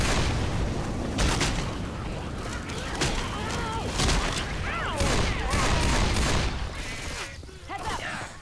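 Gunfire in the Left 4 Dead 2 video game: dense, continuous bursts of shots and booms fill the scene, with overlapping game effects and voices under the shooting.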